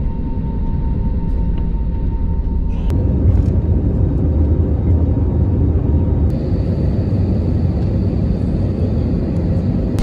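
An IndiGo airliner arriving from Sri Lanka makes a loud, steady rumbling roar throughout, with a few faint clicks and a slight change in tone partway through, and no talk.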